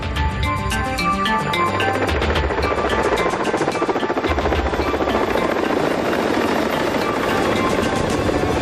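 A helicopter flies past in the naval strategy game Fleet Command, its steady chopping rotor beat loud and constant throughout, with an engine whine underneath and no talking.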